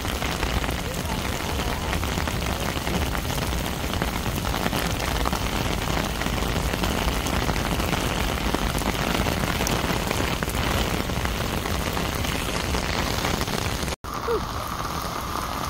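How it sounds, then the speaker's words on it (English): Steady, heavy rain falls on a rainy day in San Juan, a dense, unbroken hiss that fills the whole stretch, with one brief dropout near the end. "I hope the rain is temporary, because this is falling."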